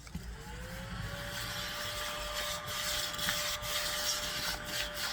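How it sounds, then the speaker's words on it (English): Vacuum cleaner sucking up superfine glitter gives a steady, loud motor whine with a constant high tone, broken by faint ticks and rattles as particles are drawn in, running throughout without talk. "let's see how well the vacuum does on the glitter"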